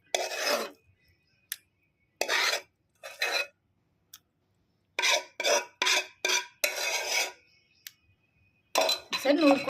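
Gongura leaves mixed into chutney in a pan, heard as intermittent bursts of wet scraping and rubbing from a spoon, separated by short silences, close and fairly loud.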